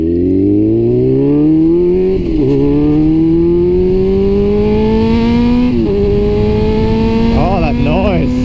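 A 1999 Yamaha R6 sport bike engine revs loud and close, its pitch climbing steadily and dipping briefly at two gear changes before rising again.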